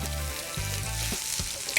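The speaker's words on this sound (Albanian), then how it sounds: "qepa është skuq mjaftueshëm, por edhe pula këtu po piqet" Steady sizzling of onion and chicken frying in a hot pan, a constant crackling hiss with a few soft knocks as it is stirred.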